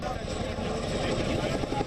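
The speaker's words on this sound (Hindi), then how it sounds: "टैंकों के खिलाफ कार्रवाई करने के लिए ये हेलीकॉप्टर्स बहुत अच्छे माने जाते हैं" Military attack helicopters at Hindon Air Base roar with a loud, continuous rotor and engine drone and a rapid beating thrum, close by and steady throughout.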